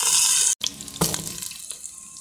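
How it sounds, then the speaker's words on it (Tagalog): Tap water pours steadily into a cooking pot in a home kitchen, a loud continuous hissing splash that briefly cuts off, then resumes with shifting gurgles and splashes. "Lalagyan natin yan ng tubig guys."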